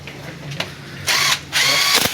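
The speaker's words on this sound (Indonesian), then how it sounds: "Kita pentokan dulu menggunakan impact" An impact wrench runs down bolts on a Hino Dutro truck engine in short bursts: a brief buzz, then two louder hammering rattles of about half a second each, close and sharp.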